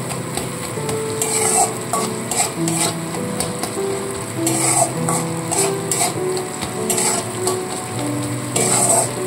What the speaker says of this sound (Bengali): এবার খুব ভালো করে মেশাতে থাকবো। খুব ভালো করে মশলাটা কষাতে হবে